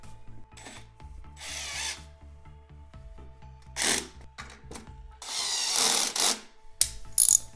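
A hand ratchet and tools work on the bolts of a Magene MG80 smart spin bike, giving bursts of rapid clicking, rasping and scraping with pauses, close and moderately loud, with no talking.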